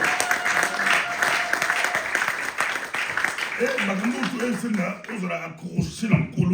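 Congregation applauding during a gospel church service, a dense, steady clatter of many hands that runs throughout the clip, with voices talking and calling out over it.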